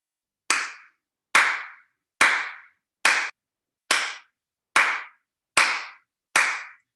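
Eight single hand claps during an adaptive yoga practice, evenly spaced under a second apart. Each clap is crisp and close, with nothing else heard.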